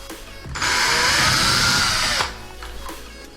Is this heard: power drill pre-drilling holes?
yes